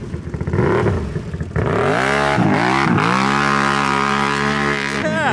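Can-Am Renegade XMR 1000R ATV with a 1085cc big bore engine revs hard and holds a loud, close, sustained roar after a rough lower-pitched start, with pitch climbing and dipping slightly.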